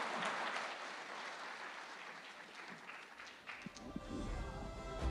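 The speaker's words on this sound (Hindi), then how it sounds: "एक बार जोरदार तालियां अखिलेश यादव जी के लिए प्लीज।" Applause from a summit audience for Akhilesh Yadav on a TV9 stage, a broad steady wash of clapping that thins and turns patchier partway through, with a few louder claps near the end.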